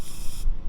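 An aerosol can of clear coat sprays into a lid in one short, steady hiss close to the mic. The hiss cuts off abruptly, and nothing else is heard.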